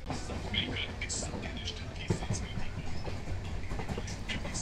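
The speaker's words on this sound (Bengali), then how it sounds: "চলুন দেখি ট্রেন কত স্পিড তুলতে পারে, স্পিডটাই দেখার।" A local train running from Bangaon to Ranaghat picks up speed. It gives a continuous low rumble with rattling carriage noise and scattered clacks, heard from inside the train.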